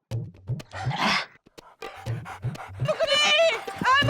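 A person pants like a dog during a comedic dog-pose yoga exercise, quick rhythmic huffing breaths that are close and fairly loud, mixed with strained vocal sounds that mimic a panting dog.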